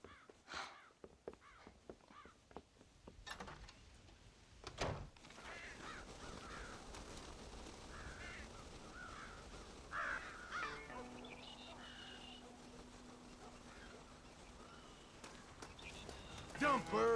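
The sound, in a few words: crows cawing in Red Dead Redemption video game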